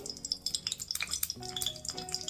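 Mustard seeds, cumin, dried red chilli and curry leaves tempering in hot oil for a quick onion pickle, a steady close sizzle with crackling pops and light stirring clinks against the pan.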